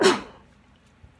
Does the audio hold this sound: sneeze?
yes